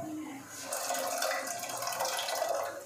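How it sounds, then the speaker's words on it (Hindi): Water pours into a cooking pot set on a lit stove while making veg green pulao, a bright continuous splashing gush that swells after a brief lull and carries on steadily. "इसमें हम डालेंगे पानी"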